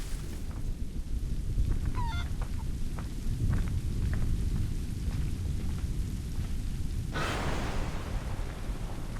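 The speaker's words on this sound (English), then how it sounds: "The storm's getting worse." A thunderstorm in the video game Assassin's Creed Rogue, with steady heavy rain, a few scattered crackling impacts and a rolling thunder burst late on, all continuous and loud with no talking.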